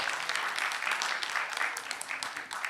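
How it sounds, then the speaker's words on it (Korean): An audience claps for award winners at a 2022 youth festival in Yeonggwang, South Korea. The applause is dense and continuous, a steady wash of many hands filling the room from start to end. "우리 두 분께 큰 박수 함께 보내주시기 바라겠습니다."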